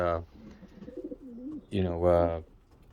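Pet birds outdoors in New Jersey coo softly in a warbling, wavering line, framed by louder, fuller calls close by.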